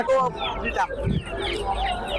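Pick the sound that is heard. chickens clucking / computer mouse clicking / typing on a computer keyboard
chickens clucking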